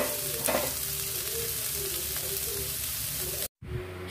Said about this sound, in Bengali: ক্যাপসিকাম, আদা, রসুন, কাঁচা লঙ্কা, পেঁয়াজ সব একসাথে সটে করে নিচ্ছি।